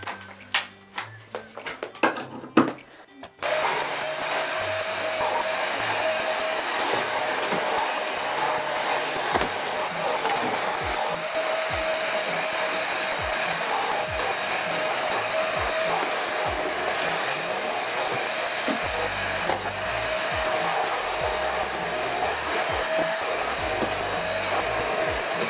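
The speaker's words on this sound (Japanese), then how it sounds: "じゃあ最後に掃除機当てていきます。" A vacuum cleaner runs steadily while cleaning a small bathroom at home, after a few brief clatters and knocks at the start; a loud, constant motor whine with no talking.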